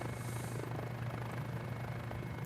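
A Mini 500 small helicopter in Microsoft Flight Simulator: steady rotor drone and engine hum, continuous and fairly close, with no voices.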